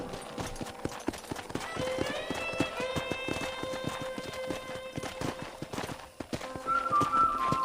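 Horse hooves clip-clop in a steady walking rhythm at a corral in the Western game Red Dead Redemption. A whinny and a whistled melodic line sound over the hooves, and speech is present.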